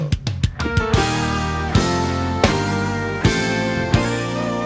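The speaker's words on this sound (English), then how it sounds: "every chord that I just played right there was a major add 9 chord" Piano plays a sequence of rich, sustained major add 9 chords, gospel style, each struck firmly and left ringing, with a few quick notes at the start.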